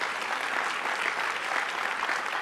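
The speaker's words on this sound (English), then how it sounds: "Please applaud." An audience at a mainstage conference session applauds in dense, sustained clapping, steady and fairly loud throughout.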